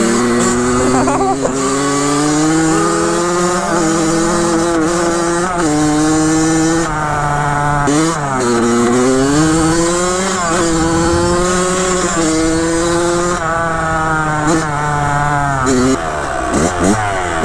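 Kawasaki KX100 dirt bike engine fitted with a cheap Chinese carburettor, revving loudly and unevenly and breaking up, pitch rising and falling through repeated blips over about seventeen seconds, close and continuous.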